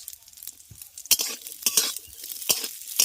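Cashews, almonds and raisins fry in hot ghee, the faint sizzle broken by sharp metallic clinks and scrapes of a spoon stirring against the pan at irregular intervals.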